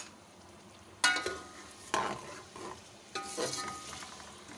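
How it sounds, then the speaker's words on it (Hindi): Whole garam masala spices, cumin, a cinnamon stick, black peppercorns, cloves and a bay leaf, stirred and roasted in a pan, with soft sizzling and several scraping stirs at irregular intervals, fairly quiet. "गरम मसाले के साथ हम इसको अच्छी तरह से भून लेंगे।"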